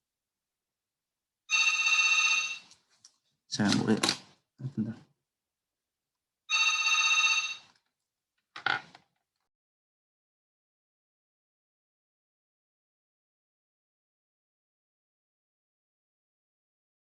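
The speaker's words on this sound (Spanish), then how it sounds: "Esto es un teléfono." A telephone ringtone during an online math class rings in two loud bursts of about one second each, a few seconds apart, with brief speech between them, then silence.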